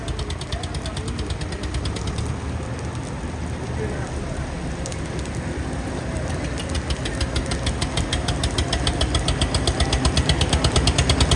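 A diesel engine chugs and knocks steadily, growing louder and more rhythmic toward the end, with patter like rain in the background.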